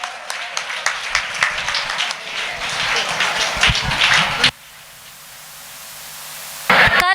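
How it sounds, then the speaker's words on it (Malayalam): An arts fest inauguration audience breaks into dense, sustained applause for arriving guests, rising over several seconds before cutting off abruptly into a quiet hiss, with a brief burst returning at the end. "നിറഞ്ഞ കയ്യടികളോടെ നമുക്ക് അവരെ സ്വീകരിക്കാം"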